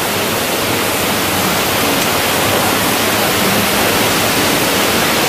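Water pours over rocks as a waterfall curtain in a Dong and Changjiao Miao minority region of China, a loud, steady, unbroken roar with nothing else heard.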